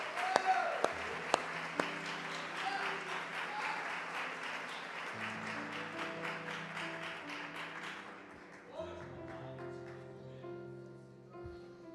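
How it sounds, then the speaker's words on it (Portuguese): A church congregation claps at a sermon, a dense stretch of applause blending with sustained keyboard music that carries on alone after the clapping fades. "Você pode aplaudir a ele, por favor?"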